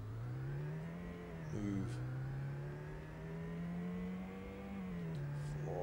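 Car engine revving in the Amiga racing game Test Drive II, a steady droning whine that dips and climbs with each gear change, with a brief spoken word over it.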